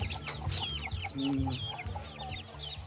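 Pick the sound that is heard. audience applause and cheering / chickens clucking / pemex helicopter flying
chickens clucking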